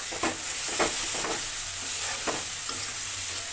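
Crab is stir-fried with turmeric and chili paste, a spatula scraping the pan in about five distinct strokes over a steady, close sizzle.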